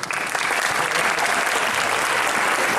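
An audience at a school concert applauds, a dense, steady patter of many hands clapping at close range with no talk over it.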